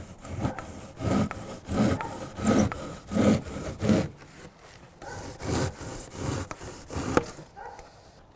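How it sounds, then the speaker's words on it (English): A handsaw cuts through insulation board for attic pull-down stairs in steady back-and-forth strokes, a rhythmic rasping close up, pausing briefly before resuming. "it's very easy to take a handsaw and slice through this like butter"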